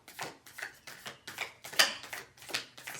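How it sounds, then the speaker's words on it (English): A tarot card deck is shuffled by hand in about eight quick, evenly spaced riffles and flicks, close and crisp, with no talk. "This deck can be a little bit difficult to shuffle."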